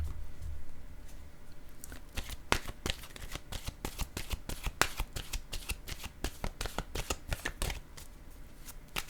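Oracle cards being shuffled by hand, a long run of quick, crisp riffling flicks with an uneven rhythm, close and clear with no talking.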